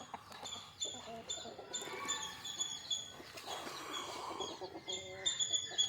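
Country chickens cluck and chatter as they are fed bran in the morning, with overlapping calls, soft clucks and small bird chirps close by and some faint background activity.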